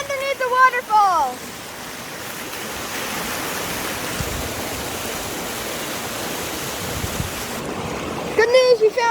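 A waterfall pours with a steady, broad rushing roar, moderately close, while people talk briefly at the start and again at the end.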